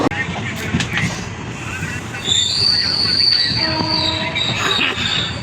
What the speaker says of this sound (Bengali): তো চলো ট্রেন ছাড়ছে